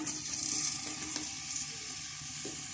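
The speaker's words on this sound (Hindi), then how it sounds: "ऑयल गर्म हो गया, अब इसमें कटे हुए प्याज डाल लेती हूँ" Chopped onions sizzle steadily in hot oil in a kadhai, a soft, even frying hiss that runs throughout, with faint clinks of utensils and a sharp tap at the very end.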